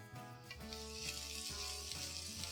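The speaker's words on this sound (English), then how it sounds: "Once the oil is hot, let's add all the aromatics" Finely chopped garlic and ginger sizzling in hot oil in a pot, a steady close frying hiss with a faint hum underneath, no talking.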